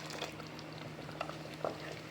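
Goat lung gravy with coconut paste boils in a pot, giving a quiet, steady bubbling with small pops and soft liquid patter.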